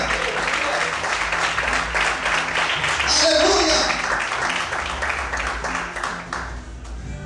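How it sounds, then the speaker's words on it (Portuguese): A church congregation applauding during a sermon, a sustained, thick roar of clapping with a voice speaking briefly over it before the clapping tapers slightly at the end. "Feche os teus olhos, aplauda o Senhor"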